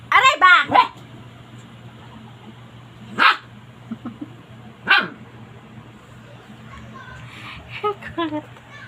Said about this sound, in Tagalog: Kulit ang aso namin.